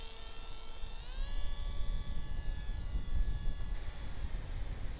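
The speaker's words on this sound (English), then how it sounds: "It's got loads of power, you know, for a little plane like this." A small light plane's engine drones steadily in flight, a close, constant hum with tonal harmonics that rise in pitch about a second in and then hold level, with rough wind rumble underneath and no talk.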